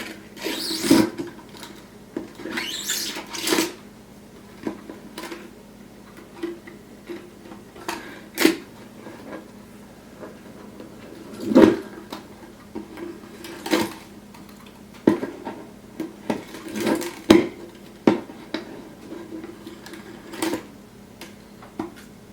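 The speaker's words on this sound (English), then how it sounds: "You just have to loosen the strings." Ukulele strings are loosened at the tuning pegs, giving scattered soft clicks, creaks and rubbing taps at an irregular pace, close and fairly quiet against a low background hum.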